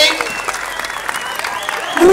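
Audience applause for specialist teachers of culture, sport and music at the opening ceremony of a municipal teachers' games in San Judas Tadeo, a steady dense patter of many hands filling the whole stretch at moderate loudness.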